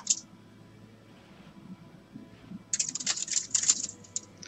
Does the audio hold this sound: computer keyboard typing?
yes